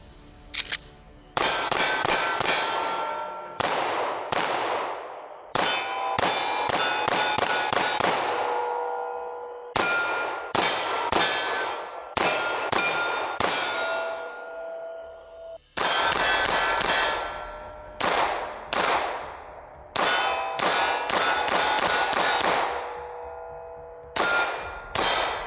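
A Kimber 2K11 Pro Comp compensated pistol emptying a magazine at night, sharp loud reports fired in quick bursts and strings with short pauses between groups, each shot ringing with a metallic clang, no talk.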